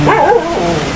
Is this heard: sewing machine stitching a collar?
no